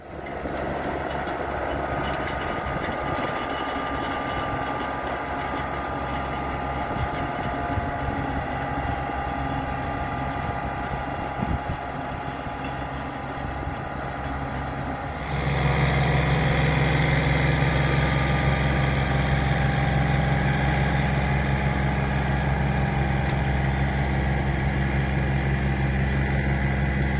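A Rotadairon rotary soil cultivator fitted with screening tines runs with a steady mechanical drone that grows louder and heavier partway through, holding a constant engine rumble throughout with no voices.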